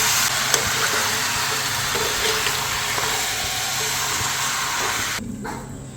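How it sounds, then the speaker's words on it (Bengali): A pressure cooker holding country chicken curry hisses steam in a steady, loud, unbroken rush that cuts off abruptly just before the end. "তবে তো প্রেশার কুকারে দেবো যেহেতু দেশি মুরগি নালে সিদ্ধ হবে না"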